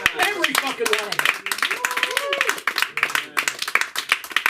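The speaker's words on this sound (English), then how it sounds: "So get a round of applause going for fucking love" Audience applause at a comedy open mic, uneven clapping from a small crowd heard under someone talking loudly over it, with no steady burst of clapping standing alone.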